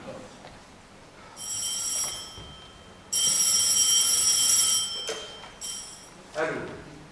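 Old-fashioned telephone bell ringing in a domestic comedy scene, several loud sustained bursts separated by pauses, with a few other noises between rings.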